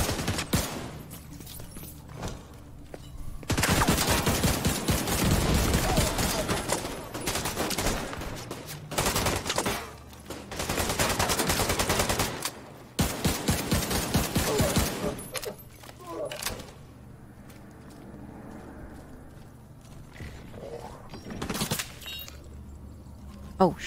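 Gunfire in the shooter game The Division 2, with sustained automatic bursts in long rattling volleys broken by pauses and a few lone shots, loud and close, with a player talking in between.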